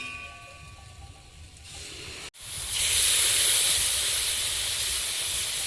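Fried soybean chunks and potato meet a mixed spice paste in a hot pan, and after a brief quieter stretch a sudden loud, broad hiss of frying bursts up and holds steady close by, no talking.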